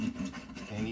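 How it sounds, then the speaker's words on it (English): A hand saw drags through a block of clear, not fully tempered ice with soft, gritty rasping strokes, steady and close, with no one talking. "and start gently sawing"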